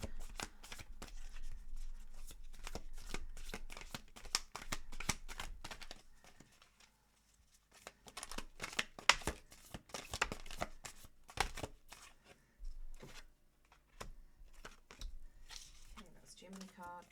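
Thick tarot cards are shuffled in a long run of quiet, rapid riffling and flicking, pausing briefly before starting again, with a voice talking softly at times.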